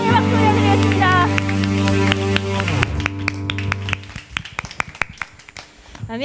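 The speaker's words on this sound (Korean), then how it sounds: "하나님께 감사와 영광의 박수 올려드리겠습니다." Worship music fades out, then a children's church congregation starts clapping. The claps are scattered and irregular, building into a looser round of applause near the end.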